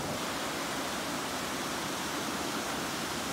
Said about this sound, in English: View from top of Clatskanie Falls